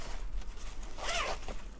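Zipper on a Tsubamenote multi-case planner pouch being pulled open, a single short rasping zip, faint and close, over a quiet background with no talk.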